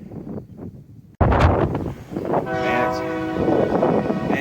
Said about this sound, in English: Managed to catch a train at the right time. Short train.